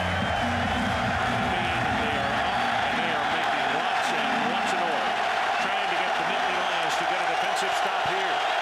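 A packed stadium crowd at the 2005 Ohio State at Penn State college football game roars continuously and loudly, with a commentator talking over the din.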